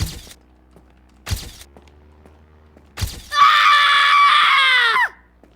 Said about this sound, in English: that scream was way too loud